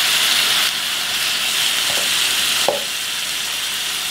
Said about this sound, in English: once I hear that sizzle start to die down, I'm gonna turn my heat back up